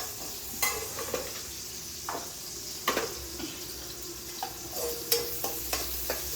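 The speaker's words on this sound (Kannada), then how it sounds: "ಈರುಳ್ಳಿ ಹಾಕಿ ಫ್ರೈ ಮಾಡೋಣ" Onions frying in a pan for chicken biryani with fenugreek greens, a steady low sizzle broken by repeated short stirring scrapes and clinks, close and moderately loud with no talking.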